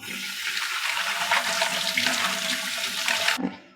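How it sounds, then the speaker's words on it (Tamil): Tapioca (cassava) roots being washed by hand in a vessel of water, a continuous close splashing and sloshing wash that cuts off abruptly near the end. "இதெல்லாம் நல்லா ஒரு 3-4 தண்ணி வச்சு கழுகணும்"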